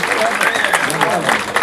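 An audience claps at a gathering in Junagadh welcoming a foreign delegation, a short dense burst of applause running under a voice speaking over it.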